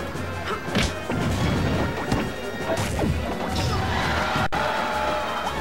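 Rapid, punchy smash attack hits and thwacks crash repeatedly in a Super Smash Bros Project M match between Lucas and Olimar, dense and loud over continuous game noise, with no talking.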